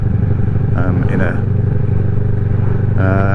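A Kawasaki ER6N motorcycle engine rumbles steadily while riding in traffic, with a brief rise in revs; a voice talks over the engine noise.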